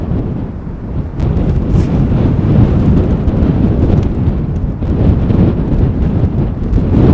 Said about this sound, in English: Wind has increased a little.